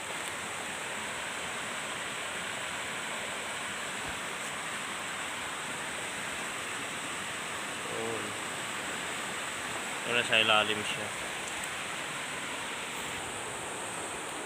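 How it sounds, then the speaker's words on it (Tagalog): A river in a rural mining area flows with a steady broadband rush, continuous and fairly loud throughout, while a voice speaks briefly over it near the end. "So ito ilog."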